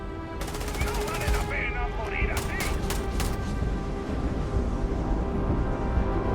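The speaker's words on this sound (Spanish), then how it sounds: "¿De dónde me están disparando?" Bursts of rapid automatic gunfire in Starfield, sharp crackling volleys clustered in the first half and then trailing off, over a steady low rumble with someone talking throughout.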